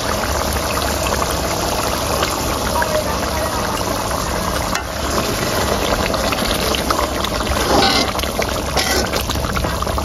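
Shrimp bhuna cooks in a pan, giving off a steady, close sizzling and bubbling that continues without a break.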